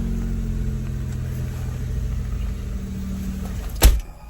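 A 1988 Buick Reatta engine idles steadily at close range, a low even hum, ending with a sharp thump near the end; no speech.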